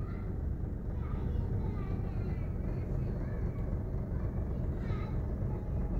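A 2014 Maruti WagonR VXI engine idles steadily with a low rumble and dense vibrating hum from the bonnet area, heard up close and continuous, with faint voices murmuring underneath.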